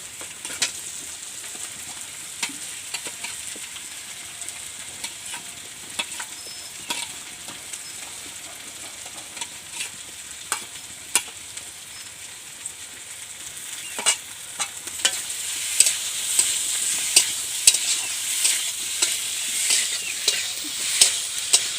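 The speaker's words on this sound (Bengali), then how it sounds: "আলু আর টমেটো ভালোভাবে কষে নিয়েছি।" Potato and tomato chunks fry with Kashmiri chili powder masala in a pan, holding a long, steady sizzle dotted with crackles and light stirring taps. The sound grows a little louder near the end, with no voices.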